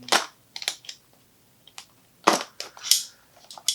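An eBay package arriving by mail is being cut open with a blade. Sharp crunching and scraping bursts come in uneven clusters, loud and close, with short quiet gaps between them.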